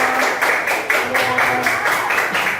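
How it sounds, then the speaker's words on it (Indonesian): A classroom group claps for group 3, loud rhythmic hand claps that fall into a steady beat and sound close for the whole stretch, with no talking. "Kita beri tepuk tangan yang beri untuk kelompok 3"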